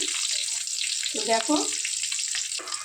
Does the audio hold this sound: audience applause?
no